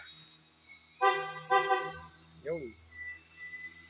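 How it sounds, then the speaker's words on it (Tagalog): A Bosch snail-type car horn fitted to a Mitsubishi Mirage gives two short loud honks, followed by a quieter tonal beep over a low engine-like hum. "Horn type. Okay, snail type horn."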